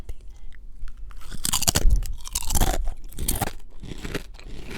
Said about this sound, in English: I have some Ruffles baked potato chips, cheddar and sour cream